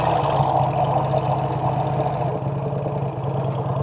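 A Vincent Rapide motorcycle's V-twin engine running in second gear, a loud, close, steady throbbing rumble with a rapid pulsing beat throughout.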